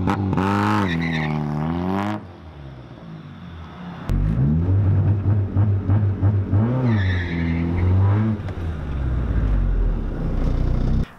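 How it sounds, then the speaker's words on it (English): Engine of a Megasquirt-tuned car held on a 3000 RPM launch control rev limiter for a mild launch: loud, steady buzzing drone with rapid stuttering pops, breaking off briefly, then resuming rough and choppy before a short revving swell. "this is a little demonstration with a 3000 RPM limit and a pretty mild launch"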